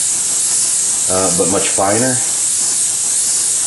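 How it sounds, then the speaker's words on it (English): Airbrush spraying Createx paint with Future added, run at the same pressure through the finer part of the needle on a scale model: a continuous, even high hiss throughout, with a short spoken phrase over it partway through. "I'm spraying it the same pressure, but I'm spraying with the finer part of the needle."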